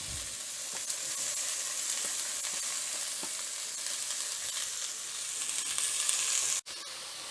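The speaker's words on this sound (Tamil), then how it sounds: "இது ஒரு 2 நிமிஷம் நல்லா வதங்கட்டும்." Onions, asafoetida, ginger, and green and dried red chillies sauté in hot oil with mustard seeds while cooking bhindi masala, giving a steady, even sizzle with faint scraping stirs and a brief drop near the end.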